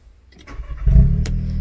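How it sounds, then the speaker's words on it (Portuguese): A VW Polo GTS fitted with a sport exhaust and valved system cranks and fires up, the starter whirring briefly before the engine catches with a deep rising burble and settles into a steady idle, recorded up close. "Então vamos ligar o carro aqui."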